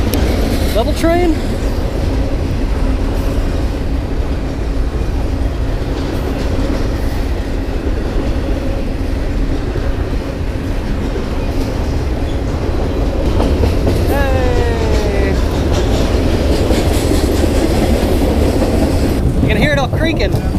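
A train in downtown San Antonio rumbles steadily past with clattering wheels and squealing metal, loud and close throughout, with faint voices underneath.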